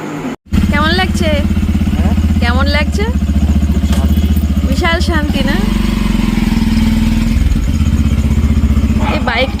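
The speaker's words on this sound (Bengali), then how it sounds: "আমার বাইক বেরোচ্ছে" A motorcycle engine runs steadily throughout, a low idling rumble close by with clattering texture, while a voice talks over it in bursts.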